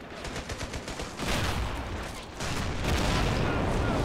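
Rapid bursts of machine gun fire from a Valkyrie mod real-time strategy game battle, mixed with explosions and heavy combat noise, loud and continuous with a rattling rhythm early on.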